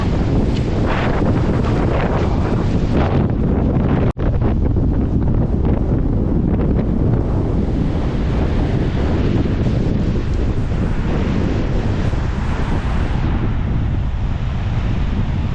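Strong wind of 16 to 18 metres per second roars and buffets the microphone continuously, with a rushing, surf-like background and no voices, on Hiiumaa island.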